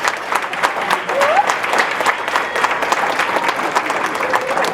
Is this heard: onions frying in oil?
no